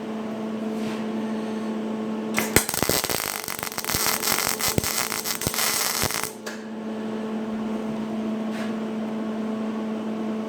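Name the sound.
MIG welder running a bead on a sheet metal butt weld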